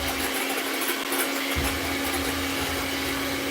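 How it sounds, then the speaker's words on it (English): An electric hand mixer runs on high, beating cake batter for a banana cream-filled cake, a steady continuous motor whir throughout with no pauses. "Recipes for beating on high with a hand mixer for 5 minutes."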